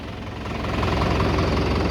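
Heard from inside the cab of a moving tractor, its engine runs loud and continuous with a rough, knocking rumble that swells slightly partway through.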